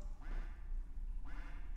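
A duck quacks in the Roblox obby game, with two separate raspy quacks about a second apart over a low background hum.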